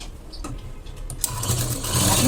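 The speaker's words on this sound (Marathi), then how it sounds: "आता मी इथे आतल्या साईडला फोल्ड करून शिलाई करणार आहे" Rapid, even ticking of a sewing machine stitching along a folded fabric strip on a blouse, running steadily at close range and growing slightly louder toward the end, with no talking.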